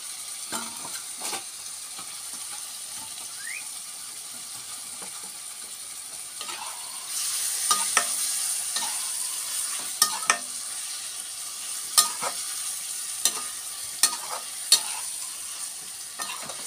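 Onions fry alongside fish in a pan, a soft steady sizzle that grows louder partway through, broken by occasional scrapes and taps of a utensil stirring and no talking.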